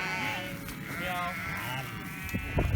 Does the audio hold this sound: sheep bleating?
yes